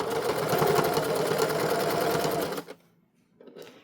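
Sewing machine running steadily as it stitches a seam in a fleece headband, a close, even mechanical whir for over two seconds before stopping, followed by a faint brief handling sound.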